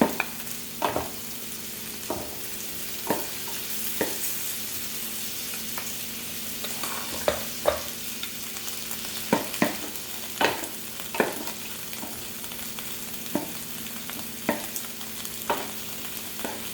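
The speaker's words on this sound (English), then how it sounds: "So everything is already cooking here." Kabocha squash, green beans and shrimp cook in a pan, a steady sizzle broken by regular scrapes and knocks of stirring, close and without talk.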